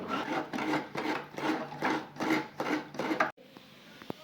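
Fresh coconut being grated by hand for a kadhi in a home kitchen, a steady rhythmic rasping of about seven strokes, close and loud, ending abruptly with a few faint clicks.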